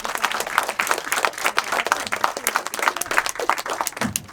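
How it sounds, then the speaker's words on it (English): An audience at a panel discussion breaks into steady applause, a dense crackle of many hands clapping that holds evenly for several seconds. "Can we have a huge round of applause?"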